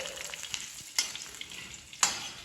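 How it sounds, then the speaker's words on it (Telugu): Washed curry leaves frying in a hot pan give a steady close sizzle and crackle, with two sharp spatters standing out. "కొంచెం కడిగి పెట్టుకున్న కరివేపాకు ఆఫ్ చేసేసుకుంటున్నాను మాడిపోతాయి"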